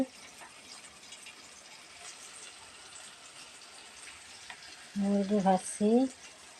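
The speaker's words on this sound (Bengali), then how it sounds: "মুরগি ভাজছি" Chicken frying in a pan with a steady soft sizzle throughout; near the end a voice briefly talks over it.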